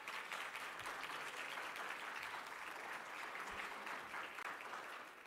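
Steady, moderately faint applause from a university audience honors Professor Lou Holder, with continuous clapping lasting several seconds before easing slightly at the end.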